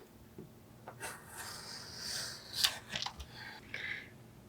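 Small part for a miniature dollhouse espresso maker being trimmed, with quiet scraping and rubbing strokes and a couple of sharp snips, close and faint with no voices.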